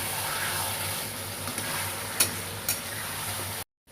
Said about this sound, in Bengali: টমেটো সস দিয়ে একটু কষা করে নেব।